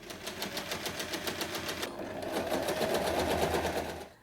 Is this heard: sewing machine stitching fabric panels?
yes